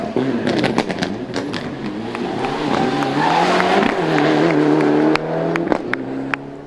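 Rally car on the final stage of the 2005 Manx International Rally, the engine revving hard through gear changes with sharp pops and crackles, passing fairly close and loud.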